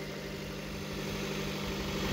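A 2016 Dodge Dart engine idles steadily with the hood open, a continuous close-up hum and low rumble at an even level throughout with no voices.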